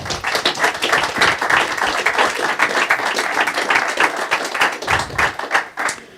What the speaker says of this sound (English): Let's give our city a round of applause.